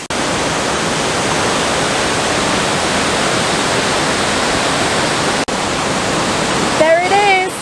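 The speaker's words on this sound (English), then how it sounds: "That's the first waterfall." A waterfall roars loudly and steadily close by near San Cristóbal de las Casas, a dense unbroken wash of rushing water with a brief voice at the very end.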